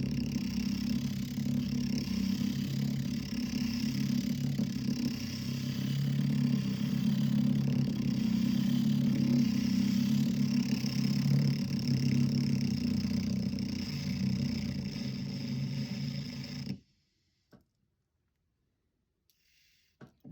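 A Dremel rotary tool spins a wood point like a small lathe, a steady close motor hum that cuts off abruptly near the end, leaving near silence.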